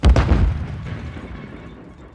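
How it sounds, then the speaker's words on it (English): A stun grenade detonates in Warzone 3 with a loud, close boom, its deep rumble and ringing tail fading over about two seconds, with no talking. "Throwing a stun grenade!"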